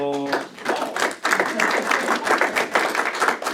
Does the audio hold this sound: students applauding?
yes